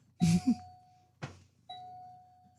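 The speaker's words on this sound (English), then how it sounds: "It actually sounds like you have someone at your doorbell." A doorbell rings indoors with a clear two-tone ding-dong chime, first struck sharply, then followed by a fainter second chime after a pause, all in otherwise quiet surroundings.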